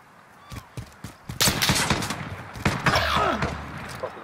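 Shotgun gunfire in a first-person shooter match, several sharp, loud blasts in quick succession followed by a denser burst of fire and rumbling impacts, close and punchy.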